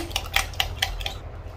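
Homemade face and body lotion stirred in a container, a quick run of bright clinking taps of a utensil against the side, close and steady over about a second and a half.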